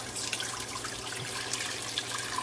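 Grape juice pours in a steady, continuous stream into a pot, a close, even splashing rush with no voices.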